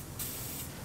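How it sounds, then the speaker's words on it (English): A short, close spray of WD-40 aerosol onto screws hisses out for about half a second, then stops. "some WD-40 on the screws"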